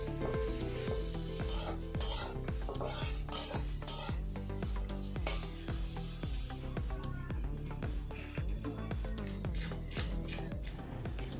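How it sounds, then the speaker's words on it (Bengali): Spices are stirred in a hot pan for village-style chicken curry, with a steady sizzle under repeated close scraping and clinking of a utensil against the pan. "এবার মশলাটাকে ভালোভাবে মিশিয়ে নেব।"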